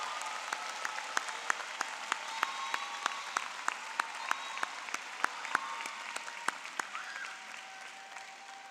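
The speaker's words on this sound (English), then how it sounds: "Go ahead and give yourselves a round of applause." Graduates of the University of Illinois Chicago College of Education applaud at their spring commencement: a soft crowd wash punctuated by sharp, distinct individual claps at a fairly steady pace, easing off toward the end.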